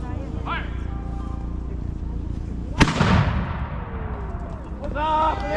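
A reproduction 18th-century cannon firing at a demonstration: one sudden loud boom with a long rumbling decay rolling out across open ground, then people's voices calling out afterward.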